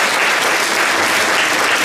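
Steady, dense applause from an audience at a regional foster-parenting conference in Olsztyn, loud and continuous for the whole moment with no talk over it.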